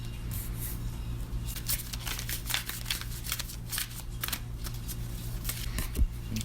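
Tarot cards being shuffled and laid out on a table, a steady run of soft papery riffles and flicks with light crinkles over a low background hum, close and fairly quiet.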